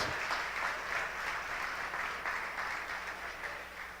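A church congregation applauds during a worship service, a steady dense wash of many hands clapping that holds fairly even throughout, with no clear voices on top.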